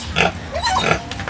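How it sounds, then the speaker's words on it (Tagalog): Large pigs grunting loudly and close on a farm, a few short rough snorts and squeals in quick succession. "Ay, lalaki ng baboy oh."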